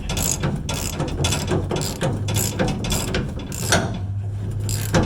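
Ratcheting work on a stubborn bolt during a rear leaf spring swap on a 1979 Ford F100, with rapid metallic ratchet clicks running steadily throughout, close and moderately loud, with no talking.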